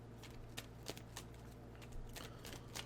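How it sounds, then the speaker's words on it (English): Soft, quick papery riffles of tarot cards being shuffled, a few brisk bursts over a steady low hum, close and fairly quiet. "Let's just do a quick shuffle."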